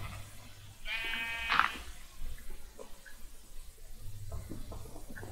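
Sheep bleating in the Minecraft video game: one clear, wavering bleat rises near and loud, followed by faint farm-like background noise and a low hum, with no talking.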